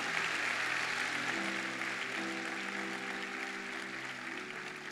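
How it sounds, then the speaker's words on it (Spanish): A church congregation applauds during a Sunday morning service. The clapping is steady and sustained for the whole stretch, with soft held musical tones underneath. "si le va a dar un aplauso al Señor, hacelo"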